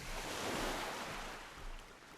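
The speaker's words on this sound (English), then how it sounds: "It sounds like I'm walking on the water" Continuous watery sloshing and surf-like wash as a character wades through water in Park Ranger Simulator, a steady broad rush with no voices.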